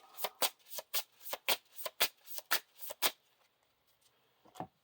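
Playing cards from the Lord of the Rings card game shuffled in a rapid riffle, about a dozen crisp close bursts over three seconds, then a pause and one last faint snap.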